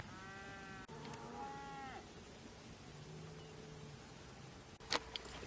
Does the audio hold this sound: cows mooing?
yes